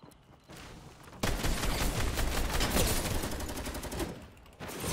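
Rapid automatic gunfire in a video game, a fast rattling burst that starts abruptly and sustains for several seconds before cutting off, loud and close.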